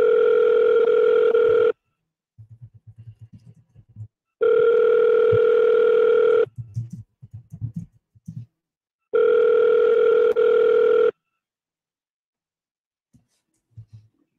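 A telephone line rings out unanswered: two-second tone bursts repeat three times with quiet gaps between them, clear and close, while faint rustling and small handling noises fill the pauses.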